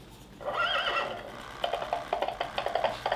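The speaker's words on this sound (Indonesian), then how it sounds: "dia bakal ngeluarin suara-suara kayak kuda lari juga" Bullseye, the Toy Story Signature Collection toy horse, lets out a bright electronic whinny followed by a quick rhythmic run of galloping clip-clop hoofbeats, close and fairly loud with no talking.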